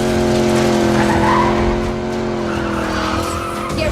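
Cars skid and tires squeal during a chase in an EA video game trailer, with a loud, sustained screech over engine roar that eases slightly toward the end.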